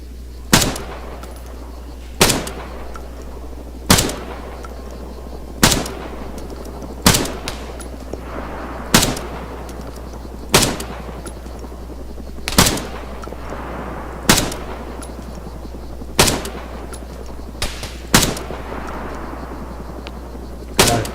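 Gunfire in the military shooter ArmA 3: about a dozen sharp, loud single shots spaced roughly every one to two seconds, each ending in a brief echoing tail, over a steady low hum with no talking.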